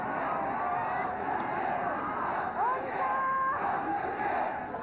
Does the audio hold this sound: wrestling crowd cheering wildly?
yes